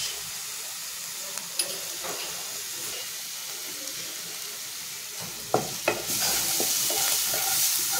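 Onions fry in a pan with salt, turmeric and Kashmiri chili, giving a steady, close hissing sizzle with a few stirring knocks that swells into a brighter, louder sizzle near the end.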